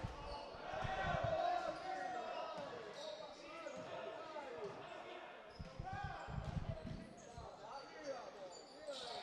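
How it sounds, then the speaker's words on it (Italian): Basketball dribbling during a Serie C game between Geoclima Fogliano and Il Michelaccio San Daniele, with a series of ball bounces on a hardwood court inside a gym, heard faintly amid crowd noise and commentary. "attacca Polo dal palleggio"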